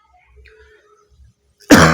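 A teacher who is ill with a cough and fever lets out one sudden loud cough near the end, after a near-silent pause with faint low murmurs.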